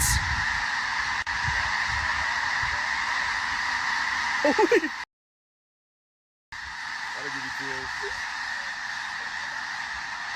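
A flock of geese honks continuously, a dense chorus of calls under brief exclamations from a person, with a short gap of silence partway through.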